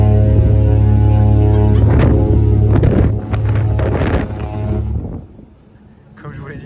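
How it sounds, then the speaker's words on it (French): Strong wind buffets the microphone on deck as a Costa Smeralda cruise ship departs, a loud steady rumble with a low engine hum beneath it, easing near the end. "je suis jamais parti avec autant de vent"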